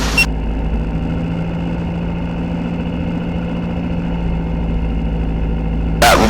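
Glasair aircraft engine at run-up during a magneto check, a steady loud droning hum held near and even throughout, with a brief burst of noise at the start and end, and no voices.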